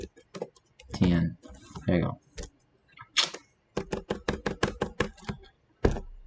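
Keystrokes on a computer keyboard, with a few spoken bits at the start followed by a rapid run of sharp, evenly spaced clicks close to the microphone.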